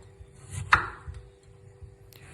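Potatoes being cut into rings with a knife, a single sharp chop against a board followed by a few faint taps, quiet and close with a low hum beneath.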